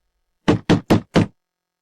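Four firm knocks on a door at a steady, quick rhythm, loud and close, with no voices.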